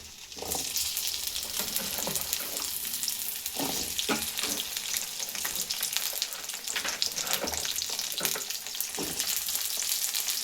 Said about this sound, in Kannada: ಎಣ್ಣೆ ಸ್ವಲ್ಪ ಬಿಸಿ ಆದ ನಂತರ ನಾವು ಹಚ್ಚಿಟ್ಕೊಂಡಿರುವಂತಹ ಬೆಂಡೆಕಾಯಿನ ಹಾಕೋತಾ ಇದ್ದೀನಿ